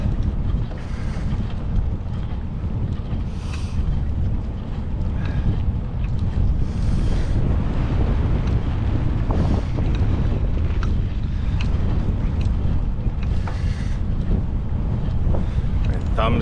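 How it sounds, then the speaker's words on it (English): Strong, cold wind buffets the microphone outdoors during a long 53-mile winter slog, a constant loud roar with gusty swells and no pauses throughout. "That wind is absolutely brutal."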